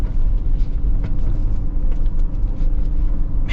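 Toyota Land Cruiser climbing an off-road obstacle, with a steady low engine rumble throughout, close and moderately loud, and a few faint clunks and scrapes.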